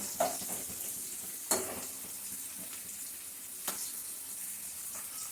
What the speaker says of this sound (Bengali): পেঁয়াজগুলি একটু লাল হয়ে নেই